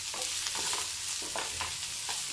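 Chopped onion fries in a pan for a yam curry, giving a steady, close sizzle broken by soft scraping strokes of stirring, with no talking.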